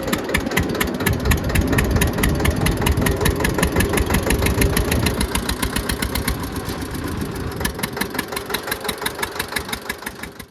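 A heavy tractor engine runs steadily up close with a rapid, regular knocking chug, the throb growing more distinct and pulsing toward the end.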